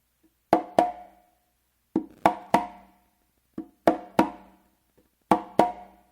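Conga strokes from a Matanzas guaguanco on three congas, sharp close slaps from right and left hands paired with light finger taps, recurring in short clustered groups separated by clear gaps, close and alone.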